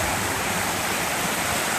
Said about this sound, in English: looks like the water's running pretty good.